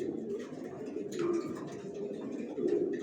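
Racer pigeons coo in a loft, a soft steady cooing close by with a couple of swells in loudness across a few seconds.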